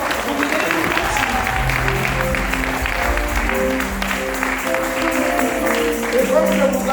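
A church congregation applauds during a dedication service, steady dense clapping filling the space throughout, with talking and other sounds mixed in underneath.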